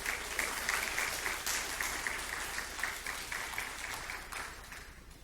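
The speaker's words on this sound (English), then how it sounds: "Please give them a round of applause." A hall audience applauds a youth team's national championship during a city address in Opa-locka, with steady dense clapping that holds for about five seconds and eases slightly toward the end, with no talk over it.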